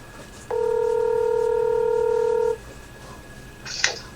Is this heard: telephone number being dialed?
yes